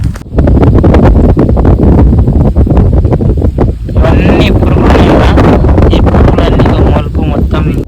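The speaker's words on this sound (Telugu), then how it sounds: "సడన్ గాలి అయితే వస్తున్నది మాటలు కూడా వినబడుతున్నాయి లేదో" Sudden wind buffets a microphone in a cotton field, a loud continuous rumbling roar that runs throughout and largely drowns out someone talking underneath.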